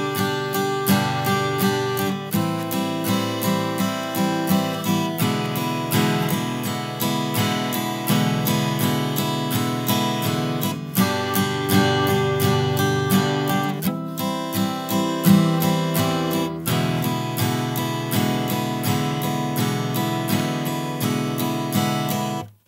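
Guitar strumming in straight, even timing keeps a steady run of regular chord strokes for over twenty seconds, with a few brief breaks between chord changes, loud and close with no speech.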